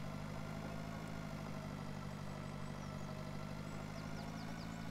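Tractor engine in the farming video game Pure Farming 2018, a steady low drone that stays faint and even throughout, with no voices over it.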